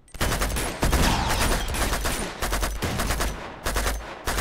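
Shotgun blasts and other gunfire from the video game Uncharted 2: Among Thieves, loud repeated shots fired at an irregular rhythm and close up, with almost no talk in between.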